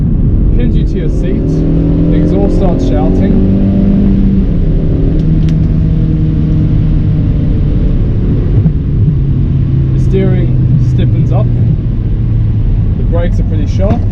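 A Hyundai i30 SR's exhaust under acceleration, a loud, rising engine drone that climbs through the revs and repeats in surges, with a voice talking over it.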